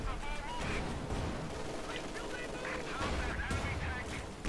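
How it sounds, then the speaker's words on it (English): Gunfire in the video game Company of Heroes 2, with dense, continuous crackling shots and rumbling battle noise, loud and steady throughout, mixed with voices. "Come on, shoot the damn Scott!"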